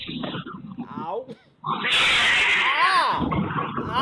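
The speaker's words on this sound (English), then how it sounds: "Stormy violently hisses at something that we can't see" A cat named Stormy lets out an angry, drawn-out hiss and snarl that swells loud after a brief quiet gap. Reacting voices and exclamations are mixed in around it.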